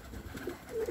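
Soft cooing from a racing pigeon, a couple of low rounded calls rising near the end, fairly close with faint background noise.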